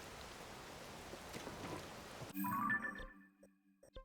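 Steady broadband rain hiss from The Legend of Zelda: Tears of the Kingdom fills the first half, then cuts to quieter game ambience with soft tones and small clicks.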